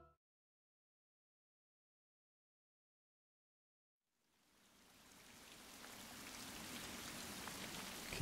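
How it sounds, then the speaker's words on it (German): Rain in the video game Fire Emblem: Three Houses fades in after several seconds of silence and builds into a steady, dense patter of falling drops that grows louder toward the end, with no talk. "Es regnet."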